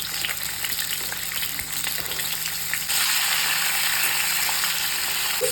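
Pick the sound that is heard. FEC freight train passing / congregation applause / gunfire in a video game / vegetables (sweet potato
vegetables (sweet potato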